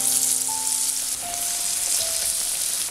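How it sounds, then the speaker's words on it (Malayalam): Maida batter-coated bread slices deep frying in hot oil, a loud, continuous close crackling sizzle with a few faint background tones fading early. "ഇത് ഇതൊക്കെ നമുക്ക് അടുത്ത ബാച്ച് വറുത്തെടുക്കാം."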